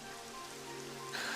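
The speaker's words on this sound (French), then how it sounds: "It would have to go and start raining, wouldn't it?" Rain begins falling in the fantasy video game Dragon Quest XI, a steady hiss of raindrops on surfaces alongside soft game music, growing denser and brighter near the end of the short stretch.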